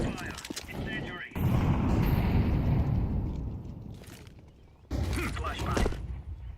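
Incendiary grenade fire roaring in Counter-Strike 2, a loud, broad, sustained burning whoosh that swells in the middle, dips, then flares again, with gunfire-like bursts and game sounds around it.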